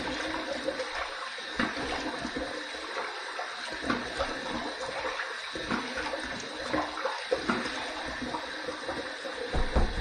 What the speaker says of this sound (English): All right, let's rinse